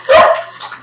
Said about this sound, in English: I need to keep that dog.